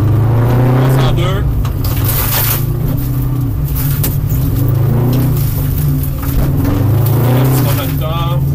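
A rally car engine drones loud and close from inside the cabin as the car accelerates and shifts gears, the pitch rising and dropping through the changes while a co-driver speaks over it.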